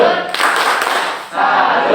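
A clapping chant in a classroom at a teacher-training practice exam, with two rhythmic bursts of group clapping and a short dip between them, close and loud, with voices mixed in.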